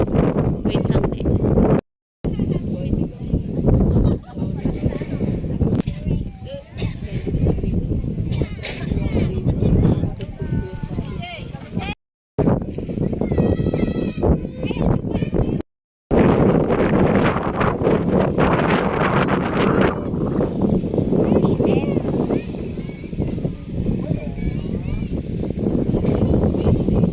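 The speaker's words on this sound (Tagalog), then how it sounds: "ang sarap ng hangin dito guys." Strong wind buffets the microphone at Mount Mayon in loud, rumbling gusts that roar almost continuously, with people talking underneath and a few brief cutouts.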